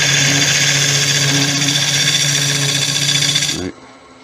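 A wood lathe spinning a Balinese teak vase while a gouge hollows it, a steady loud tonal whine with scraping texture that stops abruptly near the end.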